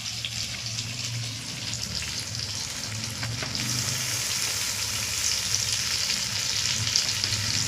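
Ginger, garlic and cumin paste with green chilli fry in a pan, giving a loud, steady, close sizzle that grows slightly fuller halfway through, with faint stirring scrapes.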